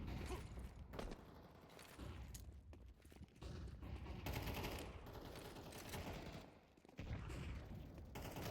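Counter-Strike match action with a grenade explosion and bursts of gunfire, a dense, continuous clatter of shots and game effects at moderate level with no commentary over it.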